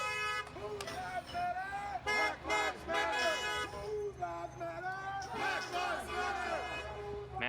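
A sanitation truck and a Jeep honk repeatedly in support of street protesters, horn blasts mixed into a loud shouting, chanting crowd with voices and a trumpet-like blare throughout.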